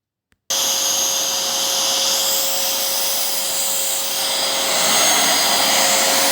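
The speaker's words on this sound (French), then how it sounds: "Donc là, je vais maintenant aspirer. J'ai la brosse, une petite brosse, et avec l'aspirateur" A vacuum cleaner fitted with a small brush cleans the cylindrical fans of an appliance, switching on abruptly after a brief click and then running steadily and loudly as a constant near whine with no talk.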